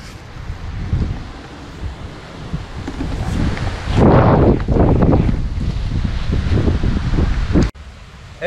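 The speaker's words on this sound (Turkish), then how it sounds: "Bugün de inanılmaz bir lodos esiyor." A strong lodos wind blows near beehives, a loud, steady roar of gusting air buffeting the microphone for about eight seconds before cutting off abruptly.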